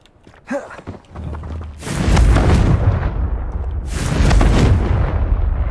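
A Confringo fire spell goes off in Hogwarts Legacy, with a brief whoosh followed by two loud, close explosive blasts whose rumbling roar lingers.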